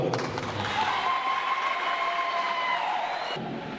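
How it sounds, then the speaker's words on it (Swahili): An audience applauds at a political speech, a dense steady wash of clapping that holds for several seconds before cutting off abruptly, with a faint voice underneath. "Piga makofi."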